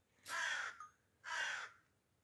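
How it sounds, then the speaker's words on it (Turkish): Crows waiting for bread in a Turkish village, giving two loud, harsh caws about a second apart, close by, with quiet rural air between them and no talking. "Bir tane kargalar bile ekmek bekliyorlar arkadaşlar"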